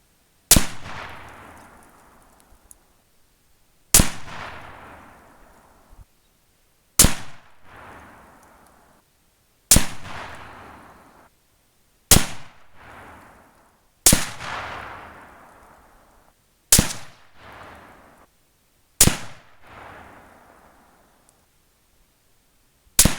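Rifle shots from a Yugo Mauser M24, nine loud, sharp cracks spaced a few seconds apart, each followed by a long rolling echo across open ground, with no talking.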